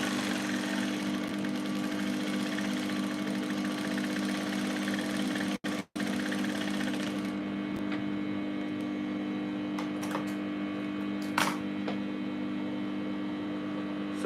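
A sewing machine stitches a straight skirt with a steady electric hum and fine rapid ticking, running continuously with a brief pause and a few light clicks near the end.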